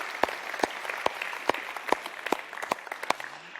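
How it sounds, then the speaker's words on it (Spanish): Applause rises from a church congregation, heard as a thin run of sharp, distinct claps at a steady pace over low room hiss, with no voices. "Aplaudamos lo que Dios hace y cómo se mueve."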